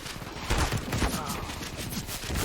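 Rapid bursts of gunfire from the video game CS:GO ring out loud and dense through the clip, with players talking and laughing over it.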